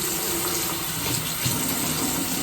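Hot water runs from a bathroom tap in a steady, full rush, a continuous close-up splash with no pause and no one talking over it.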